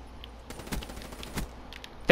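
Shotgun gunfire in Black Ops 3 sounds as a few quick, sharp blasts at low level amid faint game background noise, with no voices.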